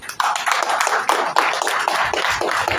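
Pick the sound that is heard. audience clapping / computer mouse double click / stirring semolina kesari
audience clapping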